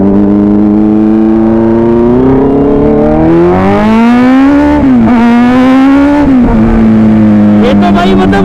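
A 2025 Kawasaki ZX-6R with its stock exhaust pulls away, the loud, close engine note rising and dipping through revs and gear changes, with a brief throttle blip near the end.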